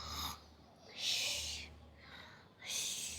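A child imitates snoring with a few breathy, snorting inhales and exhales, close and fairly quiet, in three or four uneven bursts.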